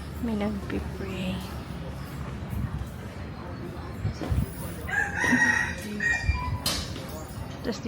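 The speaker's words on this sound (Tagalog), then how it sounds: "ang dami ang manok" A rooster crows among many chickens at an outdoor temple viewpoint in Pattaya, Thailand, with clucking and other crows around it, moderately near, while people talk over it.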